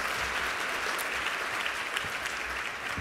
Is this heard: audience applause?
yes